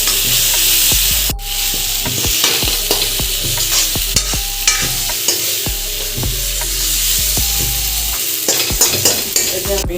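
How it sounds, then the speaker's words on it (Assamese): Onion paste and spice mix sizzling loudly in a pan while a spoon stirs and scrapes repeatedly, for a dried fish chutney; close, steady frying hiss punctuated by irregular knocks and scrapes, no talking. "তো গোটেইখিনি এতিয়া আমি মিক্স কৰি দিম ভালকৈ।"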